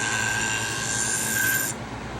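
Fiskars pinking shears drawn through a Twice As Sharp sharpener, giving a steady, close grinding rasp of metal on abrasive that runs for nearly two seconds, then cuts off abruptly.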